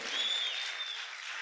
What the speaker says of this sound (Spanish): Aplaude fuerte al Rey.